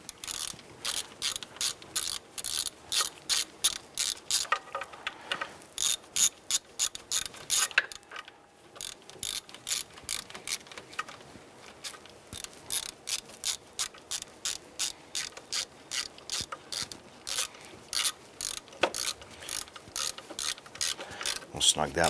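A ratchet wrench tightens the alternator bolts on a 2005-2007 Jeep Liberty with close, rhythmic clicking in repeated bursts and a few short pauses.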